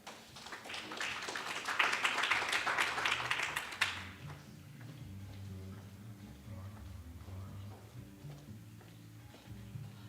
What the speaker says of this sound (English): May I request the House to give a round of applause